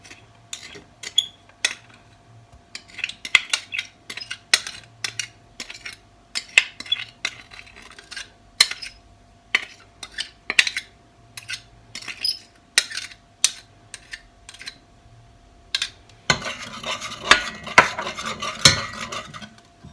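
A metal utensil scrapes and clinks against a pot while agar jelly is stirred, making irregular taps and scrapes across the whole stretch, with a denser burst of clatter near the end.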